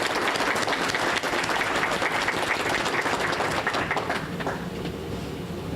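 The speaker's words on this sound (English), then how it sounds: "please give him his own special round of applause for his efforts" A crowd at a Masonic lodge bicentennial ceremony applauds steadily with dense clapping that gradually thins and fades toward the end.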